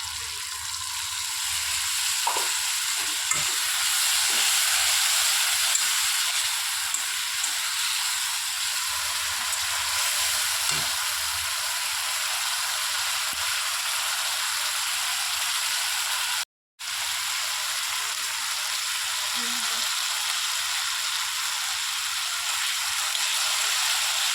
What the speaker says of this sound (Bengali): মশলা ধুয়ে রাখা জলটা দিয়ে দিবি।